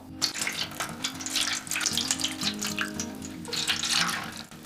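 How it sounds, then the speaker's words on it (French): Water pours into a glass oven-safe baking dish being prepared as a water bath for a flan, with a continuous trickling splash that rises and falls slightly, close and moderately loud. "nous allons mettre de l'eau dans le plat"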